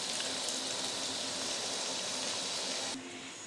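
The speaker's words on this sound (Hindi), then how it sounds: "अब हम इसको फ्राई कर रहे हैं" Tomatoes fry in a pan, with chicken going in for a chicken vegetable macaroni: a steady, dense sizzling hiss that stays level throughout, then drops slightly softer near the end.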